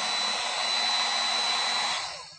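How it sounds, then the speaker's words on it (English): A heat gun set to around 450 to 550 degrees blows on a dent in an aluminum panel, a loud, continuous airy whoosh with a steady motor hum that cuts off and fades at the end. "So the heat gun, we're going to go to 450, 550 degrees."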